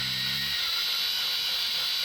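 A power drill drills out rivets on the front of a camper truck, a loud continuous high-pitched whine after a brief low rumble at the start, close to the microphone.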